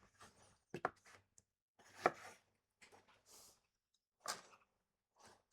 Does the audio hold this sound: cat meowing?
no